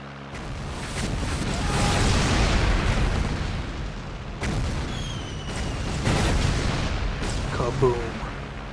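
Rockets explode in Air Conflicts: Secret Wars, a World War II flight combat game: rumbling booms and blasts overlap in a dense, roaring wash, with sharper bursts near the middle and end.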